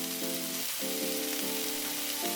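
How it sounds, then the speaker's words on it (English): Broccoli crackles and sizzles in hot oil in a wok, a dense continuous frying hiss with a steady hum underneath, close and alone without voices. "add in your broccoli and just stir it around with your spatula until it gets all crispy"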